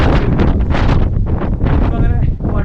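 Strong wind buffets the microphone on a hilltop in Munnar, Idukki, a loud, continuous roaring rumble with gusty surges, and a voice seems to be speaking underneath.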